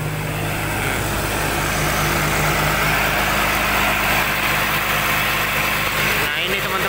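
Excavator engine running with the hood open and a slow-turning radiator fan, a steady loud idling rumble with continuous fan noise throughout.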